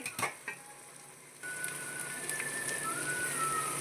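Spices such as fennel powder, chilli powder, coriander powder and garam masala frying in a pan for coconut milk colour rice, a soft steady sizzle that swells after a quiet start, with faint whistling tones running above it.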